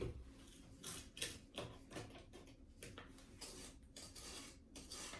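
A spatula scraping brown sugar and butter down the sides of a mixing bowl for oatmeal raisin cookies, making quiet, repeated scrapes and light clinks in an uneven rhythm.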